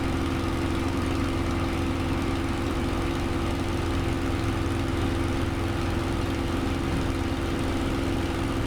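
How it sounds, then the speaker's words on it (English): Steady, loud aircraft engine drone in Microsoft Flight Simulator 2020, a continuous even hum with a strong low tone running unbroken throughout, no voices. "The engine seems to purr on nicely."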